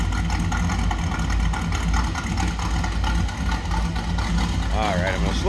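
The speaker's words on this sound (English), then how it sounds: "there's a little rumble coming out of that 350" A 1963 Ford F-100 pickup with a 350 engine idles with a steady, low, continuous rumble, heard close and fairly loud throughout.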